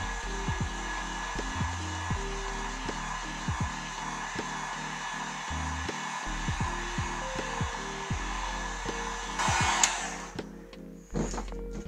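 A heat gun warms craft foam for a Harley Quinn mallet prop, giving a steady, fairly loud blowing whir with a faint hum that runs almost unbroken through the clip. No one speaks.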